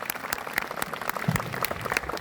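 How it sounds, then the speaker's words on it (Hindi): An audience applauds at a school farewell event, a brief burst of scattered, moderately distant clapping from a crowd. "जोरदार तालियों की।"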